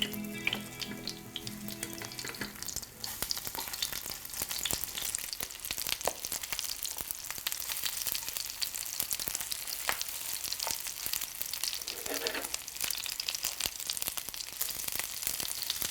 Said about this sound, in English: As the oysters start to cook